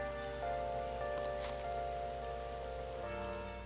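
Steady rain falling outdoors, a constant soft hiss over a low hum, with a few faint brief clicks of drops landing nearby.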